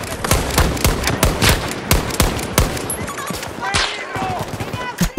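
Dense gunfire in the video game Battlefield 2042: rapid bursts and overlapping shots crackle continuously, loud and close, with distant pops mixed in.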